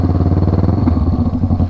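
A motorcycle engine runs steadily at close range, a loud, even throbbing putter with a slight clatter, with no voices.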